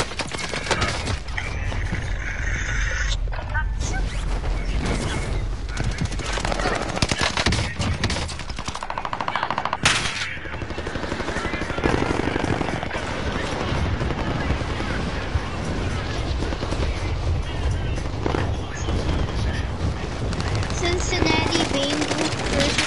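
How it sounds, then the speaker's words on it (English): Hostile gunfire rattles in a Call of Duty Warzone match as sustained automatic bursts and scattered shots, steady and fairly loud throughout, with voices talking over the fighting. "Under hostile fire."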